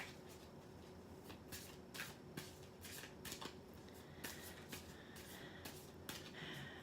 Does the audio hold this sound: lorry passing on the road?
no